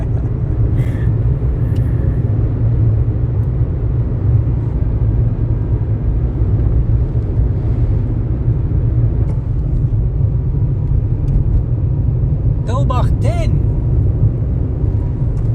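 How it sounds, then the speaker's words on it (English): Inside a car driving on a rainy road with the heater on full blast, a loud, steady low rumble of engine, road and blower noise throughout, with a brief voice speaking over it near the end. "Fortunately, we got a heater in the car. Which is on full blast at the moment."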